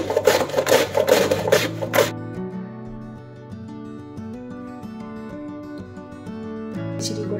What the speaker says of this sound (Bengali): তো এই আমি পেঁয়াজ কাটছি এটা দিয়ে